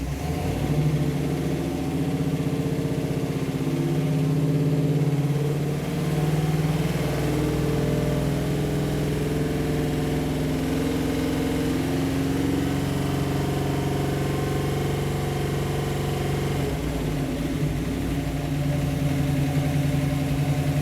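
An old-school car engine with reworked heads runs steady and loud close by, its low rumble lifting as it is held at about 2,500 RPM and then easing back toward idle, with no voices.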